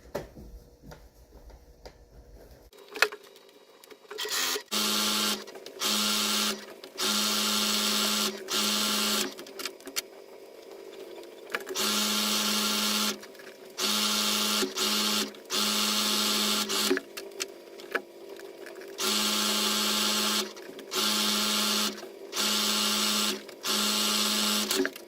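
A sewing machine stitches flat seams along the edges of a floor cloth, in repeated bursts of steady whirring separated by short pauses, close and fairly loud with no talking.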